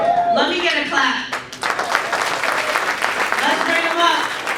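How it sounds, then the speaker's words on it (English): Audience at a comedy festival show breaks into broad, sustained clapping and cheering that fills the room, with voices shouting over the applause. "Let me get a clap."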